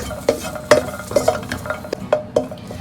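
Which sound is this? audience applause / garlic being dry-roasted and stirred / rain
garlic being dry-roasted and stirred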